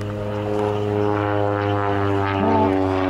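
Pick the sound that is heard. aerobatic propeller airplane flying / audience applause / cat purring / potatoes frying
aerobatic propeller airplane flying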